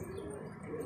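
Pigeons cooing at a pigeon loft of military-breed birds, a brief faint soft coo with light chirping, close and alone without speech.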